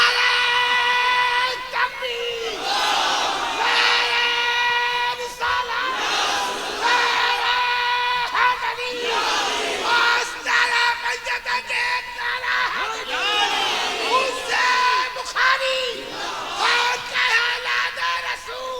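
A large religious gathering shouting a slogan back in unison, with repeated swelling roars of many voices that rise and fall in waves, alternating with a leader's amplified calls.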